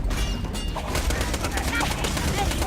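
Video game turrets fire in rapid bursts of gunfire, dense crackling shots at moderate distance mixed with game effects and some talk.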